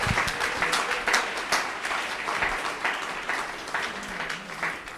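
A church congregation applauds together during a worship service, a steady wash of many hands clapping throughout with a faint voice or two underneath.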